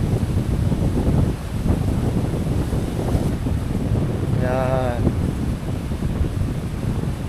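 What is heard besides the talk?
strong wind at beach campsite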